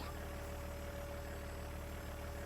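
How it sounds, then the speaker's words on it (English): A steady, droning farm vehicle engine hum in Farming Simulator 19 runs continuously at an even level, a constant low mechanical rumble with no talking. "I can't hear you over the sound of the engine, Growler."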